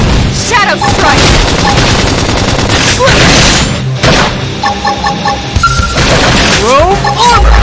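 Dense, loud gunfire in Xenoblade Chronicles X battle, rapid bursts of shots and impacts stacked over combat music, with voiced battle callouts and game effects throughout.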